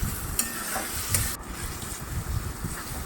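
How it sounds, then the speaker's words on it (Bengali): Spices fry in a pan with yogurt and green chillies for a vegetarian paneer curry. A close, steady hiss of frying mixes with busy scraping of a spoon stirring, with no one talking. "এই দেখো মশলা ভাজা হয়ে আসছে"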